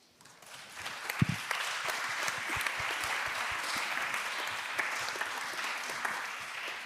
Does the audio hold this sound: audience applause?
yes